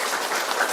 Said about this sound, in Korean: 대주교님과 신부님 이분들께 큰 박수 보내주시기 바랍니다